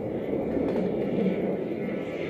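Twin jet engines of a Boeing F/A-18 Super Hornet roar at the Reno Air Races during a flat pirouette, a loud, steady, broadband rumble that holds without breaks.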